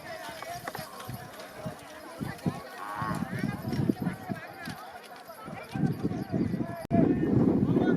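Racing bullock carts thunder past at a village fair race in Mamdapur, Yeola, Nashik, with hooves pounding in a rapid, uneven clatter amid wind noise, while excited voices and crowd chatter run over the top.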